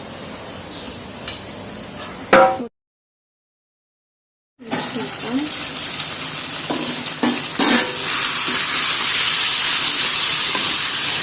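Soaked rice is stirred into a pot of chicken dum biryani, with steady loud sizzling and hissing steam, a few scraping knocks of the spoon, and a brief silent gap midway.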